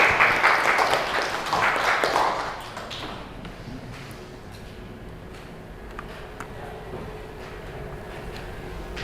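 Applause from a class for the top-ranked students: a burst of clapping for the first two seconds, then fading to quiet room tone with scattered light taps.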